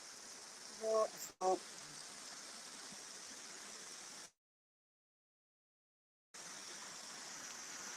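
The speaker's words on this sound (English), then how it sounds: "Waterfall." Waterfall in the Roman Quarry ancient woodland, a steady broadband rush of falling water with a couple of brief louder knocks early on, then it cuts out for about two seconds before resuming.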